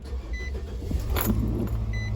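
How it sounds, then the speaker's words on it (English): A Nissan NV200 engine cranks and catches, settling into a low idle rumble up close, with faint clicks and a brief beep from inside the vehicle. "The car started."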